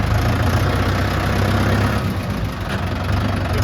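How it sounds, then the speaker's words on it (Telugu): A tractor engine runs steadily on the way to a field, a loud, close, low rumble that idles evenly and knocks throughout, with no voices. "ఒక ట్రాక్టర్ తీసుకొని పోతున్నాం చేనుకి."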